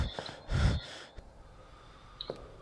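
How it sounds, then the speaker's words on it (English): A few heavy, breathy exhalations go straight into a microphone, close and rough, while faint game sounds tick in the background of an indie horror game. "when I breathe heavy, it sounds like I'm breathing into a microphone or heavy"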